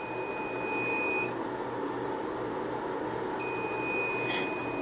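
A solar panel inverter with built-in battery gives a high electronic warning beep, held for about a second, then stopping and starting again, over a steady low hum and background noise.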